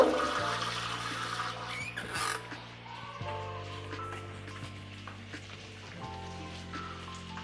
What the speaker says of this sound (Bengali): আমি ঝোলের পানিটা অ্যাড করে দিব